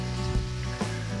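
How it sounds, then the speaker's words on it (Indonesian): Banana pieces fry in hot oil with a steady close sizzle, swelling briefly as pieces are stirred or added, no talking. "goreng pisangnya ya teman-teman. Tadi minyaknya udah panas gitu."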